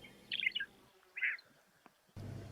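Small birds call from shrubland in Patagonia, Argentina, with two quick bursts of bright chirps and tweets a moment apart, fairly clear against a quiet background before a low rumble sets in.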